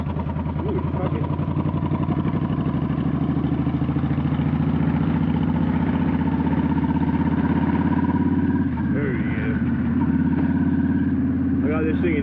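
A Yamaha V-Star 1300 motorcycle rumbles along in third gear at low speed, a close, throbbing, lugging engine chug with faint clattering, steady throughout.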